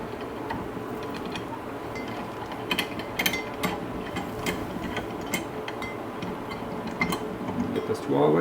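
Valve spring compressor being slowly released on a 2003 Subaru Impreza WRX engine under rebuild, giving close metallic ratcheting clicks and ticks over a steady background, with a louder clank at the end.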